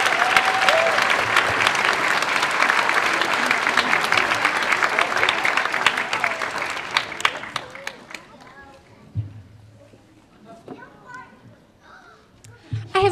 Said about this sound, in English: Give a nice round of applause to Sarah Zimmerman and Sophie Sawyers